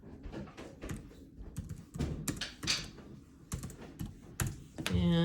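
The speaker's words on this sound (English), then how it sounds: "I'm typing this into the calculator" Quick bursts of plastic key taps clatter close up in an uneven rhythm, with short pauses between runs of presses.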